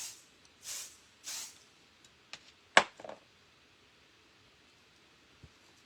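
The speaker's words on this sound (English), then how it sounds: "I am just going to spray it again and hope for the best." A spray bottle misting over a lace stencil, several short soft hissing spritzes in a quiet room, followed by a few faint taps and clicks.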